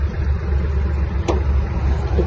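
Kubota GL-21 Japanese mini tractor with four-wheel drive engaged, its small diesel engine running at a steady close rumble with a brief click partway through and no talking.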